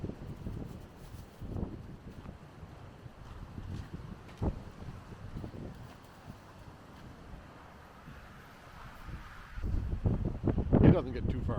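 Steady low wind rumble buffets the microphone outdoors on a cold day, gusting louder near the end, with a few faint indistinct voices underneath.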